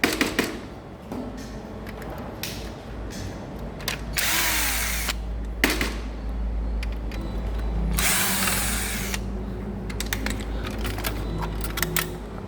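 Power screwdriver whirring in several short bursts as it backs screws out of a board inside a Fuji Xerox C3375 colour printer, with quieter handling clicks and rustling between the runs.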